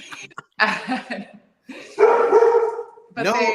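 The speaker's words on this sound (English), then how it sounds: "Sorry, my dog." A dog barks and yips close by during a live online business talk, a few sharp barks and whiny yelps broken by pauses, with people speaking around them.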